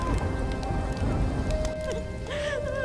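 Heavy rain pours steadily over a village on a bitterly cold winter night, a dense, continuous hiss that fills the whole stretch with a few faint tonal cries rising briefly above it.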